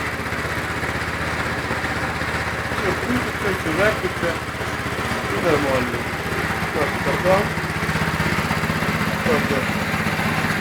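A rotary tiller for a Zim 350 engine runs on throttle, its steady mid-pitched motor drone filling the whole clip, close and loud, with a voice talking faintly over it.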